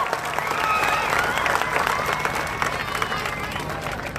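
A large crowd at a political rally in Dhulia applauds the police with steady, dense clapping. The clapping is loud and close and sustained throughout, and a low murmur of voices runs beneath it.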